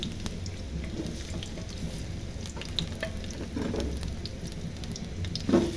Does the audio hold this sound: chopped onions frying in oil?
yes